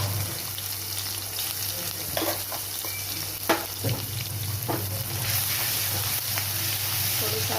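Asafoetida and ginger-chili paste fry in hot oil with a steady, close sizzle. Spoon-against-pan clinks and stirring knocks come through now and then, and a voice speaks briefly.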